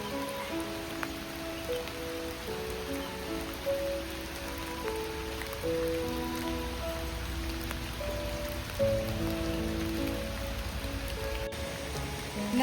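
Heavy rain pours steadily for the whole stretch, a dense, even hiss of drops on surfaces outdoors in Kerala, with no one talking over it.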